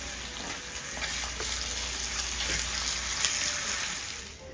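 Bacon fries in a pan with a steady, close crackling sizzle that holds throughout, with sporadic louder pops and no speech.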